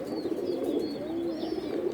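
Close, steady cooing from male Indian Kaldom pigeons fills the space, a rumbling, gently warbling coo repeating without pause and with faint higher chirps over it.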